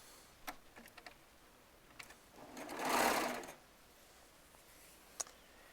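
Serger sewing quilt rows together, one short whirring burst of stitching in the middle, with scattered light clicks and taps of handling before and after.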